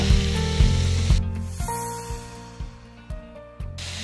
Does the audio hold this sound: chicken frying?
yes